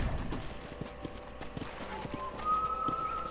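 Horse in the Red Dead Redemption video game at a ranch: steady, moderately close clip-clop of hooves at a walking pace, with a brief whinny-like tone near the end.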